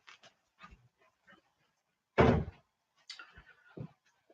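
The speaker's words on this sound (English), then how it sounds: "let me shut this door here real quick" A door pushed shut indoors lands as a single solid thump midway, framed by soft scattered knocks and small movements before and after, with no talking.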